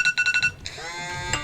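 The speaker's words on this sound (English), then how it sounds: "It appears that my phone is going off." A phone ringtone chirps in five quick repeated electronic bursts, then gives way to a sustained, warbling melodic tone that carries to the end of the clip, with no talking over it.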